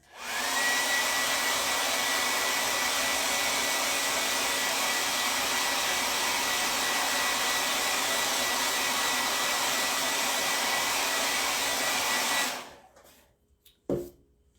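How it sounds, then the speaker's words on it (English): A blow dryer roars loudly and steadily for about twelve seconds, then cuts off, followed by a couple of faint clicks and a short thump. "dry it with the blow dryer because it's pretty loud"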